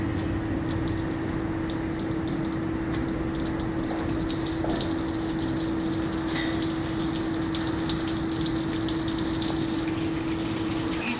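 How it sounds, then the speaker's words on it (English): Water gushes steadily from an opened drain valve on a cooling tower, a loud continuous rushing flow with a constant mechanical hum running beneath it throughout. "So what we're doing now is just open the valve out to drain the cooling tower."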